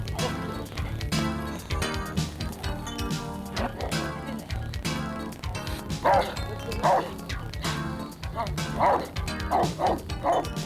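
A dog barks repeatedly in sharp, uneven bursts with yips and whimpers, close and loud, over a busy background of voices and clatter during a law-enforcement pepper-spray scene.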